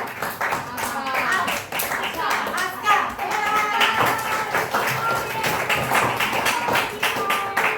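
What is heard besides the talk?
classroom children clapping hands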